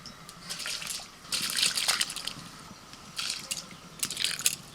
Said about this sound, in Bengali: খুব ভালো করে গরম করে নিয়ে চাল তুলে দিচ্ছি